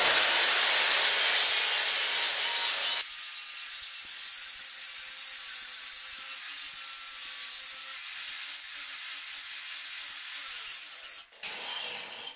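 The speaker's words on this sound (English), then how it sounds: "now I'm gonna grind the mill scale off of the 1080." An angle grinder takes mill scale off a piece of 1080 steel, a loud steady grinding that runs almost the whole time, then changes pitch just before the end.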